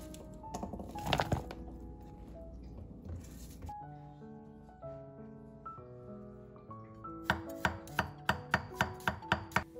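Knife chopping onions and garlic on a board, starting as a mixed clatter with faint clinks, then a calm stretch with a steady tone, ending in a run of sharp, evenly spaced close chops.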